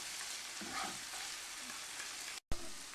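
Tomato coulis stirred and cooked gently in a pan, a soft steady sizzle with light scraping, a brief dropout near the end, no voices.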